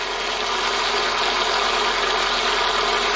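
An electric mixer motor whisks oil into mayonnaise, a loud continuous motorized whir with a steady hum that stays constant for the whole stretch, nothing else audible.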